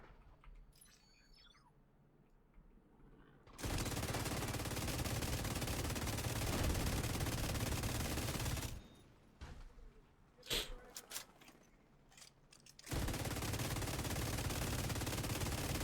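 Automatic weapons fire in The Division 2 shooter game, loud and continuous over two long stretches, with a quieter gap between them broken by a few scattered individual shots.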